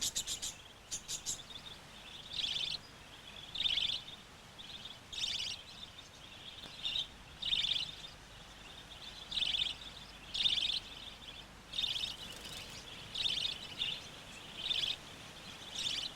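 Wild budgerigars give repeated high, shrill alarm calls in short bursts at a steady rhythm over a faint background hum, moderately distant, no voices.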